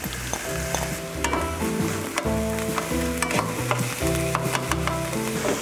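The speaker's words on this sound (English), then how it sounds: "Nice sizzle." Vegetables for a vegan veggie loaf sizzle loudly in a hot pan, with repeated clinks and scrapes of a utensil stirring them.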